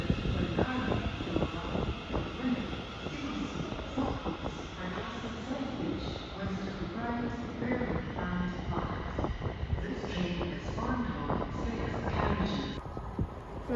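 A Class 380 electric train passes through Paisley Gilmour Street station, a steady loud rumble and rolling clatter of wheels on rail with wind buffeting the microphone throughout.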